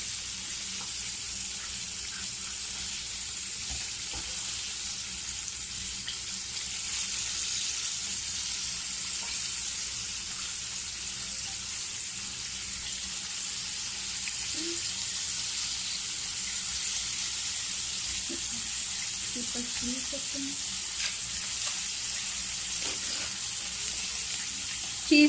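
White onions frying in a pan, a steady, faint sizzle and crackle that runs unbroken throughout with occasional soft clinks of stirring.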